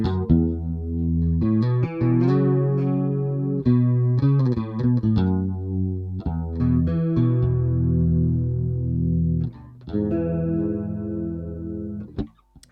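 A bass guitar runs through an EBS Unichorus chorus pedal, its notes shimmering and doubled with a slight wavering, played as a phrase of sustained notes and short runs, close and clear with no talking.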